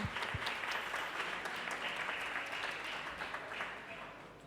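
A church congregation claps in welcome for newly greeted guests, a thick, sustained burst of applause that fills the room and slowly tapers toward the end, with voices faintly mixed in.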